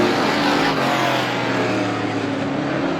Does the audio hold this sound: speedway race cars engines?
yes